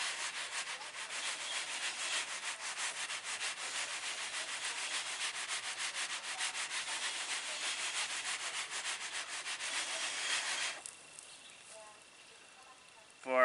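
A machine threshing wheat makes a steady, close, rasping whir with a fast rhythmic flutter for about ten seconds, then stops abruptly, leaving a faint low hum and a clunk at the end.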